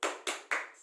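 Three sharp hand claps spaced evenly in a quick rhythm, close and clear, performed as an Indonesian tepuk salut clapping pattern with a group of women.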